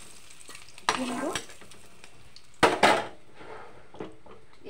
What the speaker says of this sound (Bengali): এই তেলে আমি বেগুন ভেজে নেব, হালকা করে ভেজে নেব।